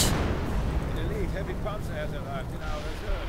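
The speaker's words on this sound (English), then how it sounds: "Artillery going in, looks like some Overwatch artillery" Overwatch artillery barrage in a 2v2 WWII strategy game match: a steady, dense roar of distant shelling and rumbling blasts throughout, with muffled voices beneath.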